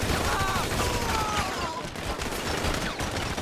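Gunfire in GTA 5 with rapid, dense bursts of shots crackling continuously and loud, mixed with game effects, no talk audible over it.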